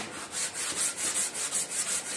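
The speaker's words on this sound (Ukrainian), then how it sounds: "Береш наждачку 80-ку і починаєш терти." 80-grit sandpaper wrapped around a small wooden block rubs back and forth in quick, even strokes, about five per second, close and clear, with no voices.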